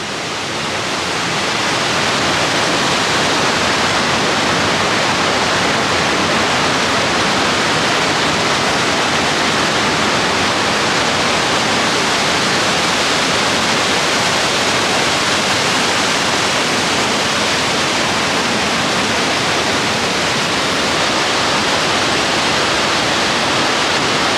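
A steady, dense roar of falling water fills the whole stretch, loud and unbroken, like standing close to a waterfall near Tuolumne Falls on the Pacific Crest Trail.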